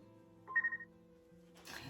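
A telephone call tone chimes indoors during a home ironing session: a short run of bright electronic beeps over a steady low hum, followed by a burst of rustling noise.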